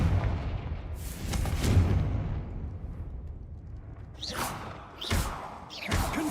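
Confringo fire-blast spells in the Hogwarts Legacy video game: a run of low booming blasts, then three sharper whooshing bursts close together near the end, loud and alone with no talk.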